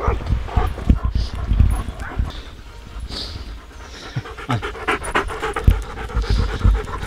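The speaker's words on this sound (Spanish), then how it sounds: "Ahí hay otro perro seguramente en esa casa." Dogs pant heavily and close by in an outdoor setting during a long walk, with a few short barks and yips breaking in and faint footsteps in the background.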